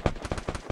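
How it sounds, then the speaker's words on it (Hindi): Rapid burst of gunfire in the video game Free Fire, about six sharp shots in under a second, quiet and evenly spaced. "देखो गोली चली"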